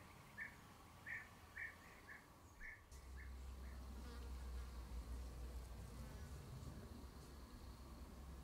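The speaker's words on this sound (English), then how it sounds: "And when there are flowers, there are insects." Insects buzz around flowers at a pond, with several short buzzing passes near the start, followed by a steady low drone and faint outdoor ambience.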